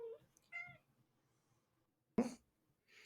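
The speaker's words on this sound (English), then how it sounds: "It meows back at you." A cat in a statue-lined spot gives a short meow, a faint chirp first, then one loud, sharp call near the end, with quiet gaps between.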